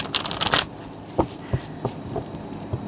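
A deck of tarot advice cards is riffled in a quick close burst, followed by several separate soft card taps and slides spaced through the rest.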